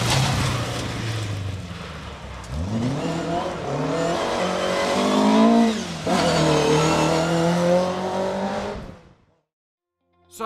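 A 1600-class Ford Escort Mark 2 rally car blasts along a Mid-Wales forest stage. The loud engine climbs through the gears with rising revs and a brief lift between shifts, then fades into silence as the car passes.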